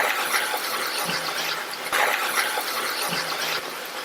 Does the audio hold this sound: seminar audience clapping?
no